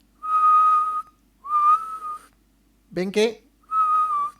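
Three steady single-pitch whistles, each about a second long and evenly spaced, with a brief spoken phrase between the second and third.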